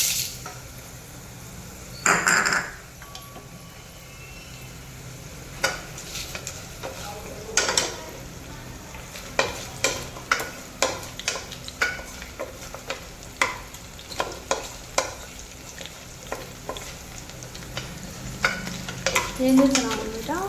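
Chillies tossed into a frying pan of sizzling oil, with a quiet background sizzle and frequent sharp scrapes and clinks of a spoon stirring against the pan, no speech.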